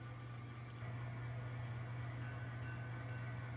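A steady N scale model train locomotive sound-effect hum drones with rumbling mechanical noise, played as a continuous cab sound effect at moderate level.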